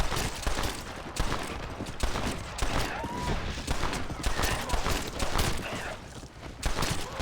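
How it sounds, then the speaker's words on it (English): Dense gunfire from a Red Dead Redemption: Undead Nightmare shootout, rapid overlapping shots and bursts filling the whole stretch, loud and continuous with no pauses, with faint footsteps mixed underneath. "Nice shooting."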